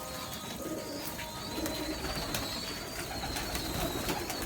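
A large flock of pigeons coos softly and continuously, with a dense bed of overlapping calls and a few sharper chirps breaking through, heard at a low, distant level.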